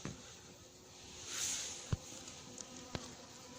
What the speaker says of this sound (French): Voilà une abeille qui vient renifler un frelon.